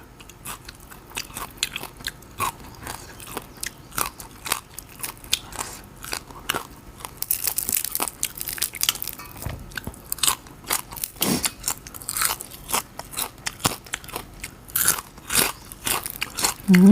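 Crunchy fried mackerel is chewed close to the mic, giving repeated sharp bites and crackly crunches in an irregular rhythm with small pauses between mouthfuls.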